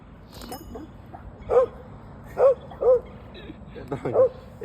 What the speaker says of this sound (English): Is he really barking? No, that's the other dog.